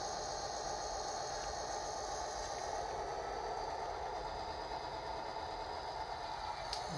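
A model-railroad SD50 diesel locomotive sound decoder produces a steady, droning engine rumble with a mechanical hum. It holds at an even level throughout, with no talking.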